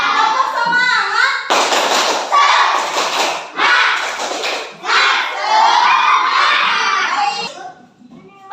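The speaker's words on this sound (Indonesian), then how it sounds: "Tepuk semangat." A classroom of children performs a rhythmic spirit clap and chant together during a lesson, loud shouting voices and thumping claps in quick bursts, ending with a brief drop before noise resumes.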